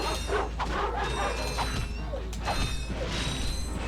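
Robot dogs in the 2002 Ratchet & Clank game give a few short, yipping mechanical barks over a constant low game hum, with no talking.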